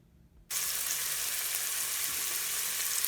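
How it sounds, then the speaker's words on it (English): Food sizzling and frying in a rice cooker while chunks are stirred and broken up, a loud steady crackling hiss that starts abruptly after a quiet moment and continues without pause. "So we just keep stirring this up, breaking it up, get them big chunks broken up into smaller chunks."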